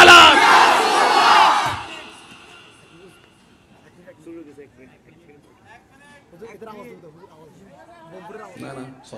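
A large crowd at a religious sermon gathering roars a slogan in unison, a loud massed shout lasting about two seconds, followed by quieter murmuring and scattered voices.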